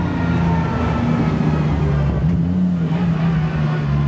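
Cars rolling slowly into the pit lane at the Monza circuit during a motor show, a steady low engine drone with idling harmonics held close throughout, faint voices mixed underneath.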